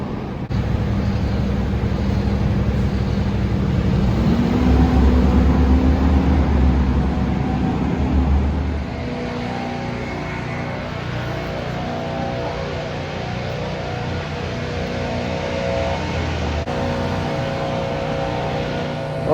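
A Lamborghini Revuelto driven through city streets, its engine a loud, steady low roar that swells and rises in pitch midway, then settles into a smoother, quieter cruising drone with steady tonal hum.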